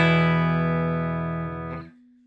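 A single clean chord from a Nash T57 Telecaster rings out through a Morgan RCA 35 amp, sustaining smoothly and fading gradually before being cut off near the end.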